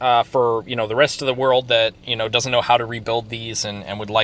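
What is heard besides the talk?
None of the usual background noises is heard.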